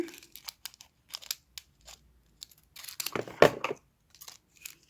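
Scissors snipping while preparing a diamond painting kit, a series of short sharp cuts and crinkling plastic or paper noises, close by, with a few brief gaps between snips.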